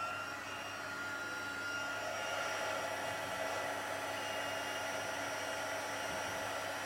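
A heat embossing tool blows a steady, even hot-air roar for the whole stretch while melting white embossing powder on black cardstock, with no talking over it.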